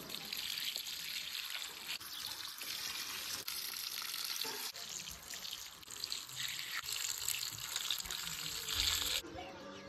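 Water is poured onto flowers in a village garden in Uttarakhand, a steady near trickle and splash that runs for several seconds, shifting slightly in flow and ending with a brief change in tone.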